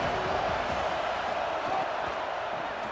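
Steady stadium crowd roar from a football video game, a dense continuous wash of cheering voices with no distinct peaks, holding evenly throughout.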